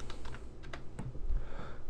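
Keys clack steadily on a computer keyboard as text is entered into Photoshop, an even stream of soft, close keystrokes with no talking.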